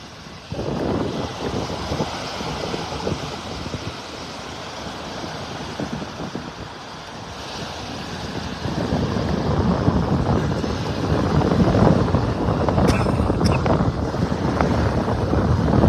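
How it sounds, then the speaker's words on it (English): Strong wind buffeting the microphone in continuous roaring gusts on a beach in North Naples, Florida, growing louder midway, with a faint wash of surf underneath. "if you want to come for a windy walk on the beach, it's not bad right now"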